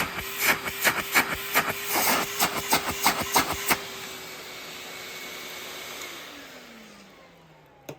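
A Lindhaus Healthcare Pro EcoForce vacuum cleaner hums with a steady motor whine under a run of sharp rhythmic clicks, then goes quiet and winds down with a falling pitch as the motor slows to a stop.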